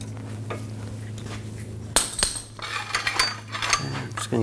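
Metallic clinks and scrapes while starting a nut on a front lower ball joint of a 2000–2006 BMW X5, with a steady low hum underneath and a sharp clank partway through followed by light tool rattles.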